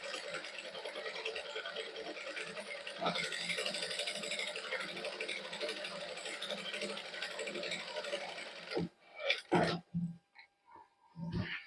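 A sewing machine runs a continuous rattling stitch while three-colour thread is sewn into a sleeve design on plain cloth, then stops and gives way to a few short bumps and handling sounds.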